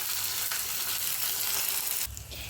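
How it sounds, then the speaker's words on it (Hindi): Mustard seeds, cumin, asafoetida and onion sizzle in hot tempering oil, a loud, steady crackling fry that briefly grows harsher and denser toward the end. "फिर इसमें डालेंगे हम थोड़ी सी राई, थोड़ा सा जीरा, थोड़ी सी हींग, और फिर डाल देंगे हम इस प्याज को"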